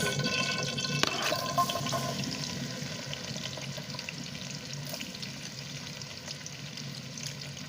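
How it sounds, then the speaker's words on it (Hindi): Finely chopped onions fry in hot oil for macaroni, giving a steady, moderately loud sizzling hiss that starts with a brief splash and continues evenly without talk. "ऑयल हमारा गर्म हो चुका है। अब हम इसके अंदर डालेंगे प्याज।"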